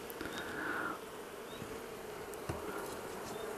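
Dense, steady buzzing of many honeybees around an opened beehive being split into new colonies, a continuous close drone with no talk.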